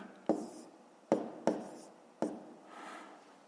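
Four separate taps and strokes of a pen or pencil on paper while numbers are written by hand, each a sharp onset fading quickly, close and quiet with a faint scratch at the end.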